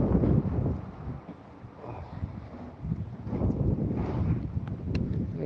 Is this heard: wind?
yes